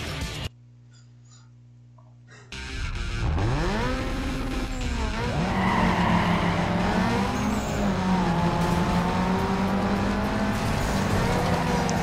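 A car brakes hard with tires skidding in the street racing game NFS Underground 2, the engine rising from near silence into a loud sustained roar with squealing tire tones sweeping up and down.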